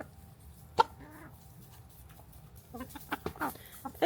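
Brahma chickens give a few scattered clucks and short squawks, quiet at first and then bunching into quick calls near the end, with low background noise and no speech.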